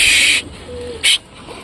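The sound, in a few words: pigeons taking flight after release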